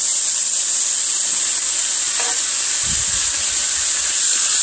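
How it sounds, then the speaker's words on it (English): A loud, constant sizzling hiss of chicken frying in a pan, with a brief low thump partway through. "Let that sizzle sizzle"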